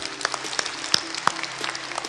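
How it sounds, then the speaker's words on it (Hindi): Audience applause at a seminar on selling LIC insurance policies, sparse and fairly quiet, with scattered sharper claps standing out from a steady background wash for about two seconds. "यहां चलो जोरदार तालियां हो जाए।"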